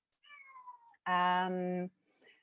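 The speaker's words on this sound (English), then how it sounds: "Sorry, can you hear my cat?" A house cat gives one loud, drawn-out meow close by, preceded by a softer, higher chirping call and followed by a faint trailing sound in an otherwise quiet room.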